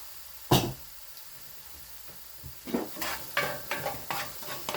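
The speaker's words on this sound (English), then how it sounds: "We're going to scrape the bottom to get all that flavor from the browning." Browned beef being stirred and scraped in a cast iron pan, a faint low sizzle under a single sharp knock, then a run of quick, close scraping strokes.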